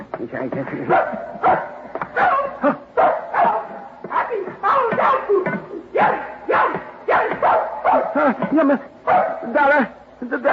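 A dog barks repeatedly as a radio drama sound effect, with loud, rhythmic bursts of barks and yips running continuously through the scene.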